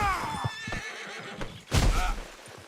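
A horse in Red Dead Redemption 2 on PS5 lets out a loud, close whinny with a falling pitch, followed by hoof thuds and a heavy, rumbling burst of movement near the end.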